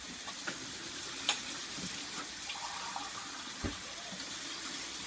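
A kitchen tap runs water into a container, a faint steady stream with a few small clunks and knocks, heard close in a quiet kitchen with no talking.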